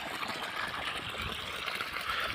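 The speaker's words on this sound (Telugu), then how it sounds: "వాటర్ చూడండి ఎట్లా వస్తున్నాయి" Water gushes steadily from a borewell pipe on farmland, a continuous close rushing and splashing flow, somewhat reduced because the bore feeds two lines.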